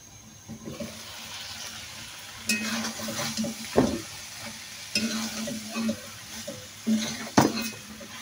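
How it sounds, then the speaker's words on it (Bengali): Potato and eggplant curry sautéing in a pan, a low simmering sizzle broken by repeated clattering stir-and-scrape strokes at close range. "আলু দিয়ে বেশ কিছুক্ষণ আলুগুলো কষিয়ে নেব।"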